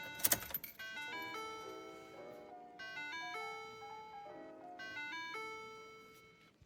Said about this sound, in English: it's just as annoying as the Ford doo-doo-doo, doo-doo-doo